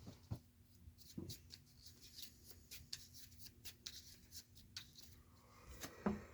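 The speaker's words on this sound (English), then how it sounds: "Time to shuffle." Playing cards for a Doctor Who Time Clash board game are shuffled by hand, a run of soft rapid riffling and sliding clicks at close range, quiet and without talk.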